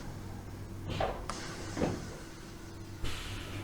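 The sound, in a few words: train cab door closing in Train Sim World 2 video game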